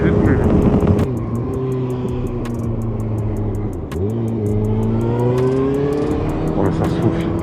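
A Kawasaki ZX6-R motorcycle engine whines steadily close up, dips briefly, then climbs in pitch as it accelerates hard through the gears.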